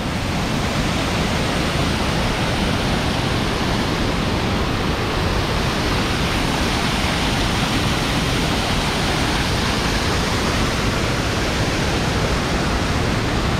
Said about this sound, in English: You see there's water coming through those steps.